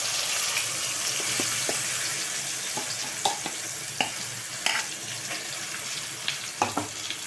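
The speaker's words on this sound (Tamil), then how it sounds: "இந்த அரைச்சி வச்ச மசாலாவை போட்டுக்கலாம்." Ground masala frying with browned onions in a pan for a beans kottai kuzhambu curry: a steady close sizzle runs throughout, punctuated by sharp scraping clicks from stirring, growing more frequent toward the end.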